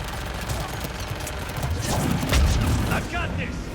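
Gunfire in the video game Mass Effect: rapid, continuous shots and booms in a firefight, underneath shouted voices calling out in combat.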